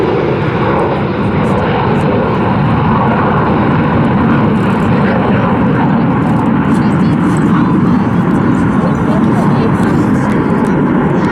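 RAF Red Arrows display jets at the Southport Airshow 2022, with a loud, steady jet roar sustained throughout as the aircraft fly overhead.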